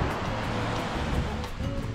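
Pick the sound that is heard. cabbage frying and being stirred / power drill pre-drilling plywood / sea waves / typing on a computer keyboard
sea waves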